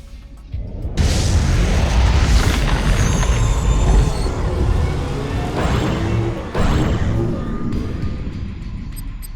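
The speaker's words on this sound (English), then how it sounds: "Ion cannon activated." Ion cannon strike in the strategy video game Command & Conquer 3: Tiberium Wars, a loud sustained rumbling blast that swells and crackles, with a second surge a few seconds in before slowly tapering off.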